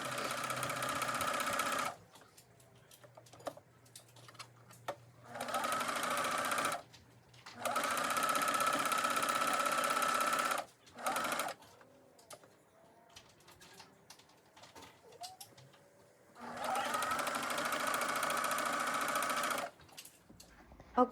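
A regular sewing machine stitches a hem on knit fabric in several runs of steady, close mechanical whirring, each a few seconds long, separated by quiet pauses with faint handling sounds.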